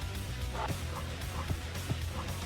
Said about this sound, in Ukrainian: Ой, там десь собака бігає.